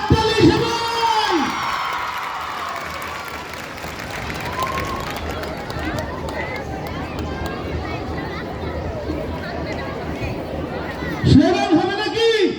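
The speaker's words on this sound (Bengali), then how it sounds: "জোরে হাততালি সবাই" Rally crowd at a Bangladeshi political gathering, cheering and shouting in a dense, continuous roar with scattered clapping, loud and close throughout, swelling again near the end.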